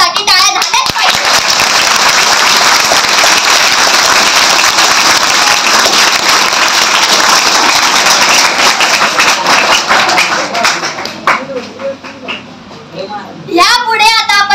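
Loud sustained applause from a school audience at a Savitribai Phule birth anniversary event, continuous dense clapping for over ten seconds before thinning out, with children's voices audible near the end.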